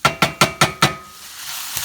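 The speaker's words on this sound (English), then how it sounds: "this is my sausage and my onion cooking together" Sausage and onion cook together in a pan, with a run of five sharp knocks of a utensil against the pan followed by a soft steady sizzle.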